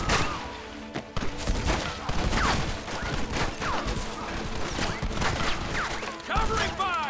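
Gunfire crackles in Red Dead Redemption, a dense fusillade of rapid overlapping shots and ricochets with loud cracks throughout, mixed with shouted voices.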